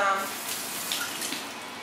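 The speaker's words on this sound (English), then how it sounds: "I'm going to pour it into my containers, but I'm going to filter it with this" Liquid poured through a paint-thinner cloth used as a strainer into containers, a steady close splashing trickle like running water into a sink, with a slight hiss throughout.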